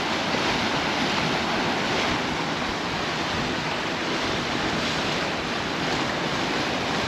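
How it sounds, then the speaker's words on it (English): Sea waves crash against rocks on the windy Costa de la Calma coast of Mallorca, a continuous loud roar of surf mixed with wind rumbling on the microphone, with no voices. "you can see the waves crashing against the rocks"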